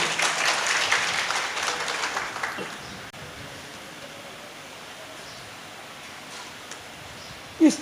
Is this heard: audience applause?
yes